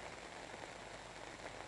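Steady rain falls at a beach parking lot, a dense, even hiss of drops hitting the ground that fills the whole short stretch without pause.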